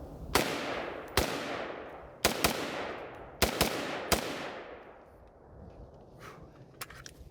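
Ruger Mini-14 rifle shots fired outdoors, five loud, sharp cracks spaced roughly a second apart, each trailing off in echo, followed by a quieter pause and faint distant pops.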